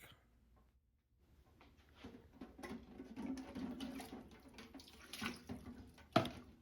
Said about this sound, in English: this sink that I'm pulling these out of has sanitizing solution in it